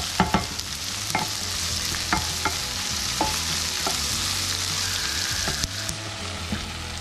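Crab stuffing mixture stirred and cooked in a pan for crab stuffed shrimp, steady sizzling frying with repeated scraping clicks of a utensil throughout, close and moderately loud, no voices.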